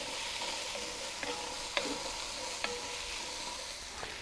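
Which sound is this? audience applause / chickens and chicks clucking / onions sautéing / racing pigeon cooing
onions sautéing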